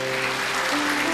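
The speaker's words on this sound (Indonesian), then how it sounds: "Tepuk tangan dulu." A church congregation applauds during a sermon, producing a brief, dense wash of clapping with a sustained musical tone underneath.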